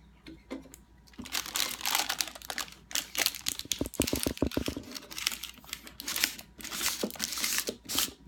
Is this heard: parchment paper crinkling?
yes